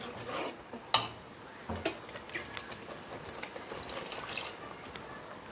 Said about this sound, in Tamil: உங்களுக்கு தண்ணி எவ்வளவோ அந்தளவு தண்ணி ஊற்றி நல்லா கொதிக்க வச்சுருங்க